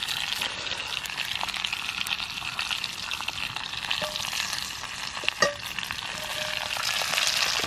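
A pork tomahawk searing over a campfire as its outer fat crisps, a steady, bright crackling sizzle with occasional sharp pops, fairly quiet and continuous, no voices.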